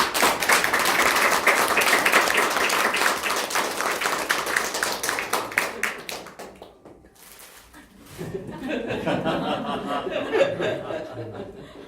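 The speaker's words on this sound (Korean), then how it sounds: "박수 한번 해주세요" An audience at an author lecture breaks into brisk applause with some chuckling, which fades to near quiet before murmuring voices and light laughter pick up again.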